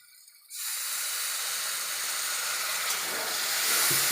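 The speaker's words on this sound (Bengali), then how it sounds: "এবার আমি হালকা করে জল দেবো।" Water poured into frying masala of chopped tomato and spices for a minced meat and green pea ghugni bursts into a loud, sustained hiss of steam after a brief quiet moment, staying steady and close to the end.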